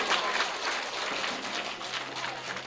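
Steady, dense clapping from a crowd at a government primary school award ceremony in Chak 11/64, sustained evenly throughout without a break.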